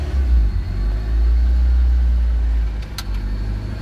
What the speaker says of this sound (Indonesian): Cek kondisi mesin, kita nyalain.